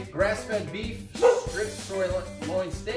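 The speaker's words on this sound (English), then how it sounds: "those are my dogs barking." Two pet dogs bark repeatedly in short yapping bursts close by at home, mixed with a person talking steadily about grass-fed beef cuts over the barking.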